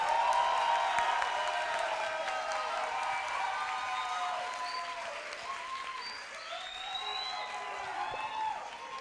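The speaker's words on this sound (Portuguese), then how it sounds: "eu queria um aplauso coletivo para os nossos convidados e para a professora Maria João" An audience gives collective applause for guests at a university event, a dense, fairly close clapping that gradually thins, with scattered cheers and voices mixed in.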